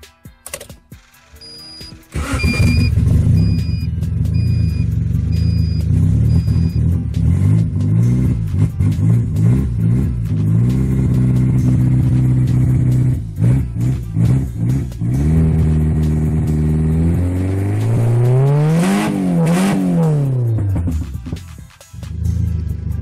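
A turbocharged Honda D16Z6 engine, its charge pipe unhooked, revs loudly and close up in repeated rising and falling blips of the throttle, with a final sharp rev climbing and dropping before it cuts off.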